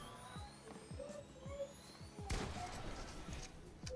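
Gunfire in a shooter video game, a burst of rapid shots with a sharp blast near the middle over a steady background hum.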